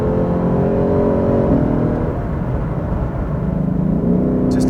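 A Lexus RC F's V8 exhaust revs while driving, a loud, close engine note rising in pitch, easing briefly, then climbing again as the car accelerates.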